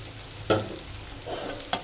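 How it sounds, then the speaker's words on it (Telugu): Green chillies frying in a pan as they are stirred, with a couple of sharp scraping strokes over a soft, steady sizzle, close and alone. "ఇందులో మనం పచ్చిమిరపకాయలు వేసేసుకున్నాము."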